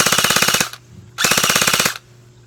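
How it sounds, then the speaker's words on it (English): A battery-powered toy blaster fires in two fast, loud bursts of evenly spaced rapid shots, each lasting under a second, with a brief mechanical hum between them. "With this battery in it, listen to how fast this shoots."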